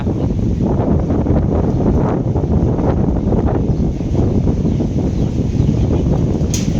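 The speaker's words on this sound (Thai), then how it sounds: "มันลมแห้งนะพี่น้อง" A dry, cold winter wind buffets the microphone in a rural Thai village, giving a continuous loud rumbling roar that rises and falls in gusts with no voices.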